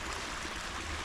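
Water rushes steadily along an ephemeral creek, a soft, even wash of flowing noise with no pauses, fairly quiet and close.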